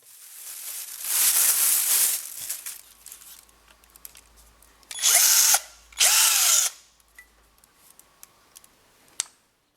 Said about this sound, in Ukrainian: І сам шуруповерт.